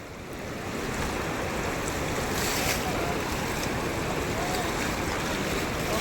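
Strong wind roars continuously close to the microphone during a very heavy rainstorm in Kalyanadurgam, Anantapur district, a loud, even rush of noise that rises in the first second and holds steady.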